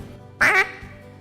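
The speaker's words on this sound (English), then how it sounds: "a young of the year duck that says" A single quack from a young-of-the-year duck, a juvenile rather than a duckling, with a light voice that has no gravel in it. The call is short and close, upturned at the end, and comes alone against a quiet background.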